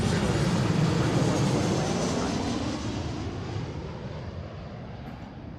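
A Delta Boeing 737-900ER jet landing on runway 34 left, a loud broadband engine roar that fills the clip and slowly fades as the airliner passes.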